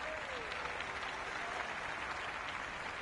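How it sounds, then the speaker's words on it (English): A stadium crowd in the Cricket 26 video game cheers and applauds in a steady, dense roar throughout a Super 6 match, loud and continuous, with no clear break. "It's evident and ever so audible that the crowd is at near bursting point at today's play."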